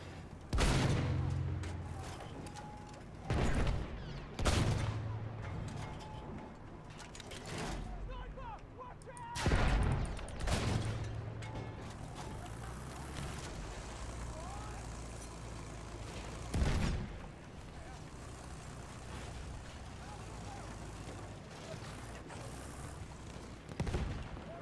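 Mortar blasts and gunfire in the video game Battlefield 1 land as repeated loud booms, spaced irregularly across the clip over a constant rumble of distant battle, with voices talking underneath.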